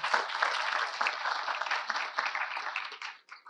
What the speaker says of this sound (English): So let's give them a hand of applause as well.